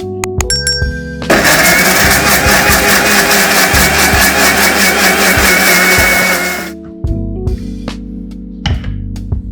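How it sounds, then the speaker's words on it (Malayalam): A loud electric mixer blending mango and milk into a shake whirs for about five seconds, starting and stopping abruptly, with clinks and handling noises before and after. "ഇത് മിക്സിയിൽ അടിച്ചെടുക്കാം."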